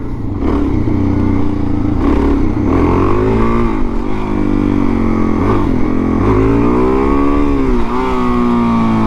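A 2000 BMW R1100RS motorcycle rides along with its engine droning loudly and close, the pitch rising and dropping repeatedly as it revs through gear shifts.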